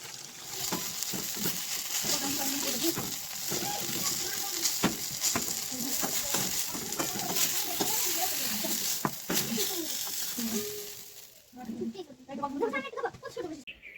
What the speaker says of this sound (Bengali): মাছটা ভেজে নিন তারপরে বেগুনগুলো ভেজে নেবো